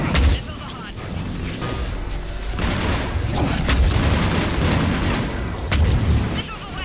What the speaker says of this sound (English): Missiles are hot.